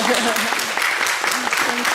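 Congregation applauding at a Sunday Dharma service for retreatants asked to stand, a dense, continuous patter of clapping filling the whole moment with faint voices underneath.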